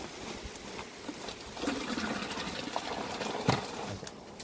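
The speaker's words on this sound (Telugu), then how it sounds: "చూస్తున్నారు ఎలా బాయిల్ అవుతుంది అది" Liquid mixture bubbling and churning in a drum on a banana farm: a steady, close gurgling wash with occasional louder pops, continuous throughout and with no voices.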